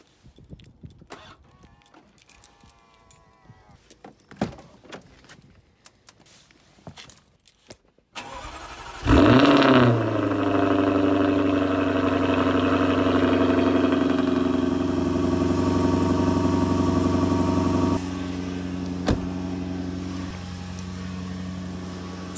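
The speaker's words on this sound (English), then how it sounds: "I've gotta move the Jag first, so let's fire it up." Jaguar car starting after some quiet shuffling and clicks, the starter cranking briefly before the engine catches with a loud rev, then settles into a steady idle that drops slightly in level later.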